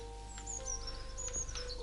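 Birds chirp in Maid of Sker, a few faint, high, quick tweets scattered over a low steady hum, quiet and slightly distant.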